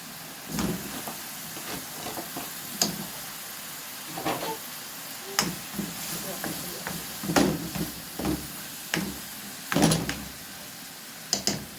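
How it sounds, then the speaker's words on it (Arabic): Minced meat frying in a pan, a steady close sizzle broken by repeated scraping and stirring knocks as the mince is moved around. "وبعدين هننزل بالمفروم بتاعنا كده."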